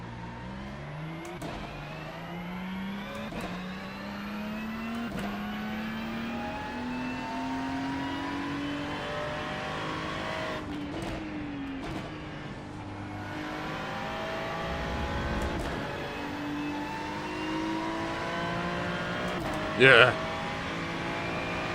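GT4 race car in the iRacing sim at the Nürburgring, engine climbing through repeated upshifts with a steady rising whine, gear changes clearly spaced, under occasional talk and a brief sharp noise near the end.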